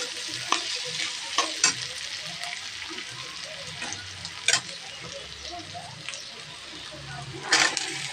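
Potatoes tipped into frying onions in a pan for a simple Bengali vegetable dish, a soft continuous sizzle with several sharp scraping stirs and clinks of a spatula spaced out across the clip.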